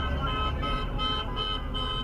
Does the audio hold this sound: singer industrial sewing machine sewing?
no